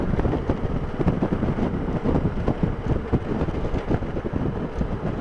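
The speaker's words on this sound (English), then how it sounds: "it would be a bit breezy" Wind buffets the microphone while riding a Can-Am Spyder across a bridge on the way to Cape Charles, Virginia, a loud continuous rumbling roar mixed with road and engine noise.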